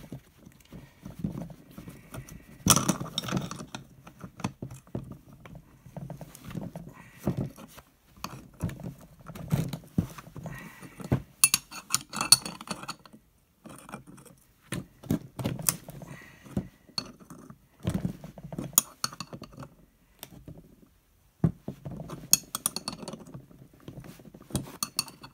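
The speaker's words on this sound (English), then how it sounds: "You can see how it's pressing the pulley on." Pulley installer tool pressing a pulley onto the power steering pump of a 2001 Jeep Cherokee, giving irregular metallic clicks and knocks in bursts with short pauses, close and moderately loud, no talking.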